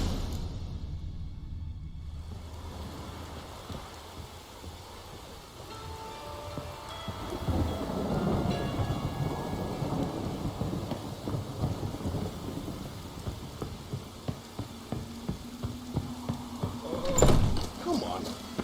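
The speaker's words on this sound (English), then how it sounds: "Looks like rain." Rain and thunder from the video game The Witcher 3: Wild Hunt. The storm starts quiet, then swells into a steady downpour with rumbling thunder and a sharp crack near the end, with brief voices over it.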